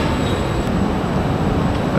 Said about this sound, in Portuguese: Esse aqui é o trem regional.